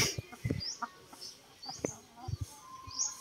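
Scattered soft clucks from Rhode Island Red, Black Australorp and Buff Orpington chickens close by, pecking at weeds on the ground, irregular and low, with faint chirps and rustling in between.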